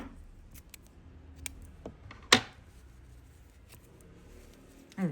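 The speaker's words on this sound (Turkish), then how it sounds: "Daha sonra kesiyorum bu ipimi." Scissors snip through crochet yarn, giving one sharp, close cut that stands out clearly from a quiet background, with a few faint handling ticks before and after it.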